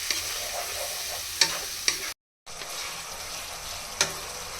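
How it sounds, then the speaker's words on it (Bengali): Spice masala of turmeric, chili powder and salt fries with onions in a pan, a constant sizzle with a few sharp spatula scrapes, close by, broken by a brief silent gap. "এখন মশলাটা খুব ভালোভাবে কষিয়ে নিব।"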